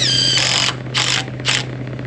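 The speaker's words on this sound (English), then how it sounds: "Get a couple screws started here" A power driver runs screws into wood on a post-frame garage build, three short whirring bursts close by, the first longer, each separated by a brief pause, over a steady low hum.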